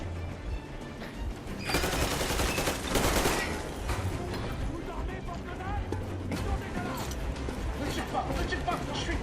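Gunfire in the video game Metro Exodus comes as bursts of rapid shots, loudest early on, followed by scattered reports. Game sounds and spoken voices continue throughout.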